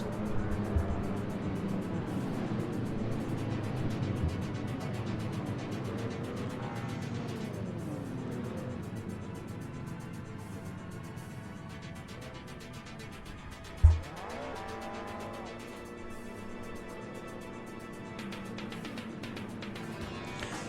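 2 litre hot rod race cars roll around a track, engines droning at a distance with rising and falling revs, one sharp thump midway, under a low wash of crowd and ambience.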